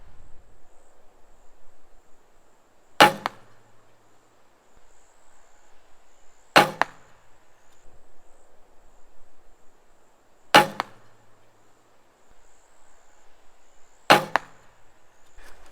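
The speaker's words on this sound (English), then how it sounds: "I'm going to show you a foam limb that's being shot and a wood limb that's being shot" Four separate recurve bow shots with foam and wood limbs, each a sharp snap and thwack, spaced a few seconds apart with faint background hum in between.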